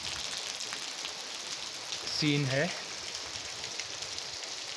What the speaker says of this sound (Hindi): लगभग एक घंटे से बारिश हो रही है